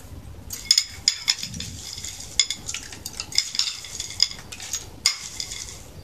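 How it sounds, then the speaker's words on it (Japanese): Frozen mixed vegetables tipped into soaked rice in an aluminium mess tin, giving a run of small clinks, rattles and scraping taps, close and fairly quiet, with no talking. "まずこのミックスベジタブルから入れます。"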